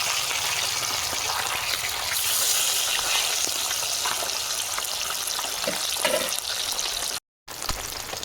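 Rohu fish pieces fry in hot white oil, giving a steady, fairly loud sizzle with occasional stirring knocks, broken by a brief silent gap near the end.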